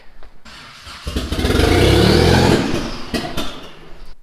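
Mitsubishi 3000GT VR4 on its first start with a new engine: the starter cranks, then the engine catches and roars up to a loud, sustained rev before settling back to a rough, uneven run, close by.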